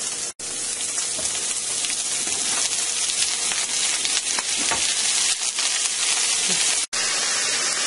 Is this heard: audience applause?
no